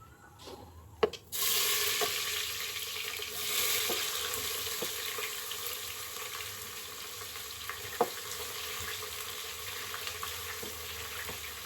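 Sliced onions drop into hot oil with whole spices for a vegetable biryani, giving a sudden steady loud sizzle after a clatter, with occasional light clinks of a utensil against the pan.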